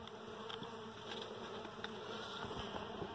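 Stingless bees (Melipona quadrifasciata) at a wooden hive box, a steady close hum of many wings with brief louder passes as individual bees fly near, with no talk.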